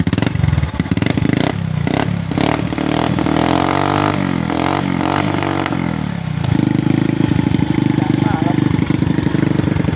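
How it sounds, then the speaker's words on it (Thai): Honda Wave 125 motorcycle exhaust idles and revs close by, loud and continuous with engine clatter, rising in throttle bursts, while someone talks over it. "ฟังเสียงท่อหน่อยครับ"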